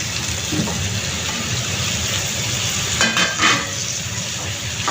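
Chunks of papaya, potato and carrot go into a pan of frying spice paste for a fish curry, giving a steady loud sizzle with a few brief stirring scrapes near the end and no talking.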